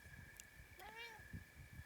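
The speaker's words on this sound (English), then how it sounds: "if my cat weren't making noise" A house cat meows twice in a rising, bending cry, close and fairly clear, over a steady high whine of crickets and low background talk.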